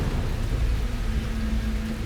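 Steady, heavy rain pours with a low rumble of thunder rolling underneath, continuous and loud throughout, in a storm scene from a Ramayan TV drama; no voices.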